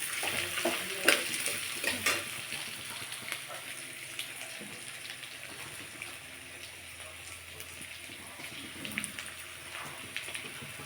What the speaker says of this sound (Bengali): এবার এটাও একটুখানি ভেজে নেব